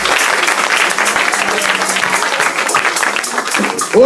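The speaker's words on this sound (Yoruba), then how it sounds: "Clap for Jesus." A church congregation clapping together in worship, dense, fast, sustained applause filling the room, loud and close throughout.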